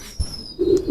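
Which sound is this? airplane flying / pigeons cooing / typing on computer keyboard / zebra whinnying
pigeons cooing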